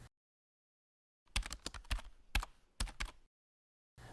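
A username and password being typed on a computer keyboard, a quick flurry of close, crisp key clicks in short bursts separated by silence, with one more tap at the very end.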